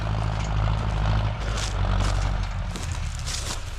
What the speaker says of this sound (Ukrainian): Ось, приїхав один трактор, дискує, інший відразу сіє.